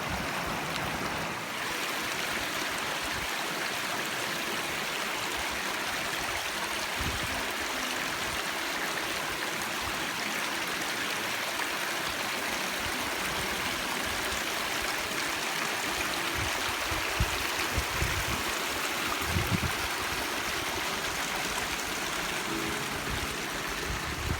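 A steady rush of flowing mountain stream water on the Colorado Trail fills the whole stretch, constant and close, with no voices.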